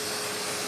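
Vacuum cleaner running with a steady, loud broadband whoosh and motor hum, unbroken and alone for under a second.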